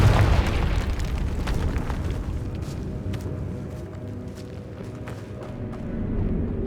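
A Confringo fire spell blasts in Hogwarts Legacy, a loud fiery boom at the start that rumbles and crackles away over several seconds, with scattered pops and game ambience underneath.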